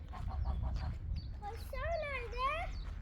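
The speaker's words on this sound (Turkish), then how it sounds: "Bak vak vak yapıyorlar" Caged geese quack and honk in a noisy group on a farm, with harsh nasal calls rising and falling over a low rumble of background noise.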